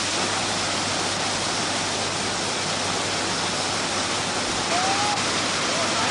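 Waterfall at the source of the Chi River roaring steadily, a dense, even, broadband rush of falling water that stays loud and unchanging throughout with no voices.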